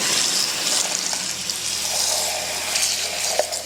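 Water pours steadily into a pot from a tap, a continuous close rushing splash at even loudness for a few seconds with a faint knock near the end.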